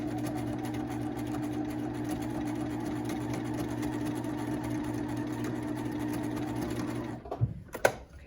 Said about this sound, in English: I'm going to secure it with extra stitching